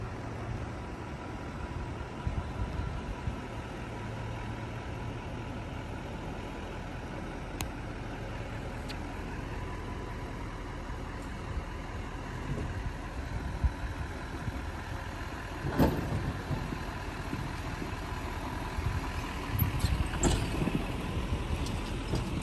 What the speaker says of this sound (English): So I'm gonna hook it up to the truck and take it for kind of a test spin